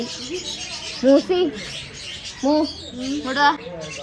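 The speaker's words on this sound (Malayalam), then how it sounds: "ഇത് പിന്നെ നമ്മളെ സാധാ ലവ് ബേർഡ്സ് ആണ് കേട്ടോ" Lovebirds at a mini zoo in Wayanad chirp in short, high bursts, a few quick calls spaced apart, close by over faint background chatter.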